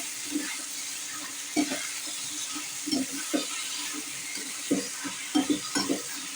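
A spoon stirs chicken masala in a pan, giving soft scraping strokes in an irregular rhythm over a low background sizzle, close by, with no voices.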